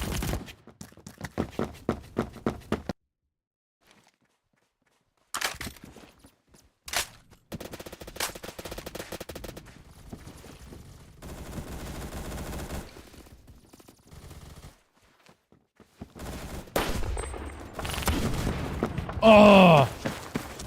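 Bursts of automatic gunfire from the Phantom Forces shooter game come in rapid clusters, separated by quiet gaps and stretches of muffled game noise, with occasional groans and sighs.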